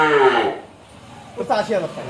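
A cow gives one loud, drawn-out moo up close, then a brief pause before people start talking.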